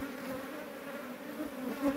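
Bees buzz in a steady, close drone around a honeycomb on a rock cliff face, with a slight swell toward the end and no voices.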